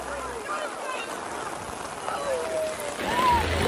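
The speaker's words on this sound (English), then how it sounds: "It's raining real bad right now." Heavy rain pours during a thunderstorm outdoors, a steady broadband wash that grows louder toward the end, with voices talking over it.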